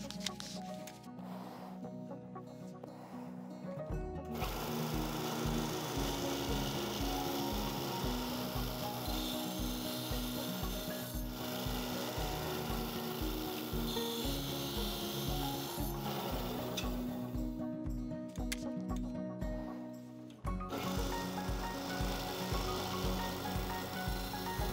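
A belt grinder finishes the surface of a knife blade. Sustained abrasive grinding with machine hum runs for most of the stretch, broken by short pauses where the belt runs free, then resumes.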